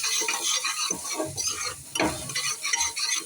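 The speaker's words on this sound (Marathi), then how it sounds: "आता याला पुन्हा छान असं मिक्स करून घेणार आहोत" Dal khichdi being mixed in a pan, restaurant style, with a steady scraping stir and a soft sizzle underneath, close and continuous, with brief louder scrapes and no talking.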